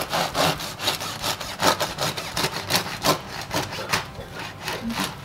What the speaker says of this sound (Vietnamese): Bây giờ mình đi cắt ra thử xem ở trong cái bánh mì nó như thế nào nha.